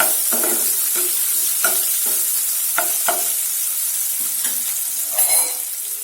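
Onion frying and being stirred in a pan for dry chana dal palak, a loud close sizzle broken by regular scraping spatula strokes and a brief metallic clink near the end.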